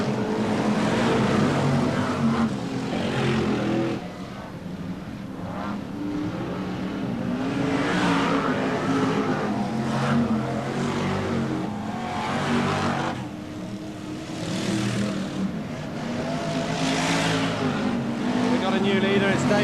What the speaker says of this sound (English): that number 17 car has got a bad misfire, so the others catching him all the time now